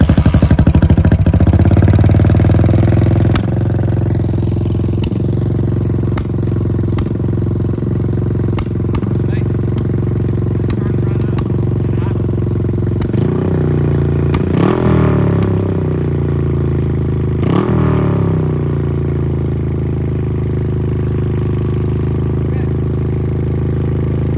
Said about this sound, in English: We're gonna try to crank it,